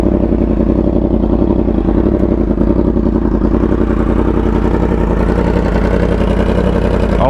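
A Yamaha R1 motorcycle fitted with an SC Project exhaust idles steadily, a deep continuous rumble with a loose mechanical clatter, close and loud throughout with no talking.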